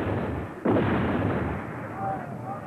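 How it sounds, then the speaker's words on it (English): A cartoon torpedo launch from a 1990 animated show gives one sudden muffled boom followed by a rushing, fading whoosh over steady background noise. "Fire torpedoes!"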